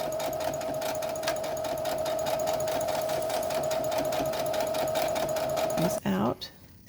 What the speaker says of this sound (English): Go ahead and sew right down the edge.